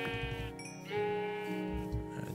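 Sheep in Minecraft bleat in a run of wavering, nasal calls, fairly close and clear, with no talking over them.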